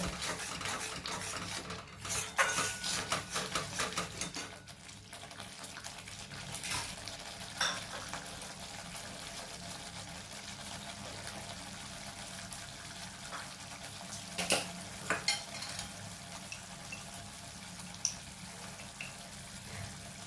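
Katla fish curry is stirred and fried down in a Bengali kitchen pot, with intermittent spatula scrapes and clinks over a steady low background of quiet sizzle and room noise.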